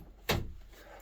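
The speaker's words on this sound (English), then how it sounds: "Let me shut my door." A door shuts with a single close, solid thud followed by a brief rattle fading into room quiet.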